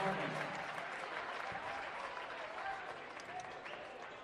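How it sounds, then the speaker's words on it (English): Basketball fans at a high school boys game, Homestead at Carroll, give a brief sarcastic cheer and applause after a foul, a steady crowd roar in a gym with voices mixed in. "a little sarcastic cheer from the Carroll fans"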